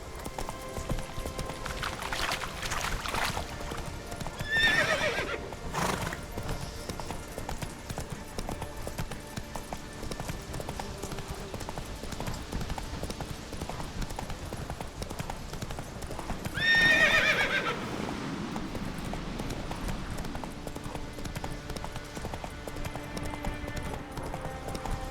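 Roach, Geralt's horse in the video game The Witcher 3, clip-clopping at a steady trot with two loud whinnies breaking through, hooves constant throughout the scene.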